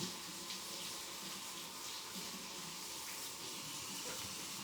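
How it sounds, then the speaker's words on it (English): Tap water runs steadily over lettuce being rinsed, a soft, continuous splashing hiss with no talk. "give it a rinse now"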